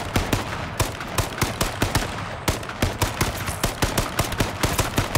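Rapid, steady gunfire bursts from the H1Z1: King of the Kill battle royale, close and loud, with regularly spaced cracking shots running throughout and no talking.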